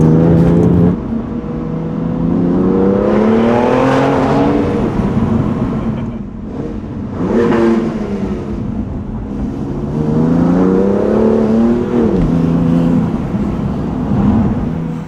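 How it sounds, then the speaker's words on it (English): A BMW M2 CS engine revved outdoors, with repeated rising and falling revs that swell loudly, drop back to idle, then climb again, loud and close with no talking. "So I'm going to jump in the M2 CS and give it a couple of revs, see what it sounds like."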